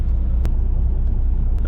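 Car pulling away, with a close, steady low engine rumble that holds level throughout and a couple of brief sharp clicks on top.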